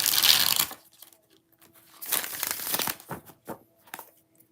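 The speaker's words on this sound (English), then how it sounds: "Three more shuffles." Tarot cards being shuffled by hand, a loud burst of riffling followed after a pause by a longer run of softer crinkling shuffles and a few light taps.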